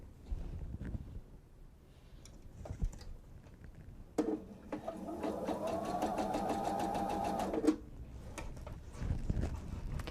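A sewing machine runs a quarter-inch seam where two raw edges join on a two-bottle wine tote, a steady close mechanical whir lasting about four seconds, with quieter handling noises before and after.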